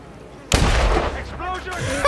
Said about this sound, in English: Perhaps I will throw the explosive golf ball and no one will know where it came from.